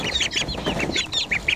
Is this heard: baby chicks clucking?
yes